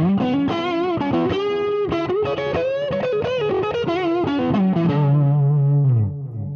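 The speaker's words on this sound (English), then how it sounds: "I've kicked in the Mojo Overdrive with just a medium gain setting, and I've added a little bit of delay from the flashback delay as well" Electric guitar through a Mojo Overdrive at medium gain and a Flashback delay pedal, no booster, playing a distorted melodic lead line with echoing repeats, ending on a sustained note that fades.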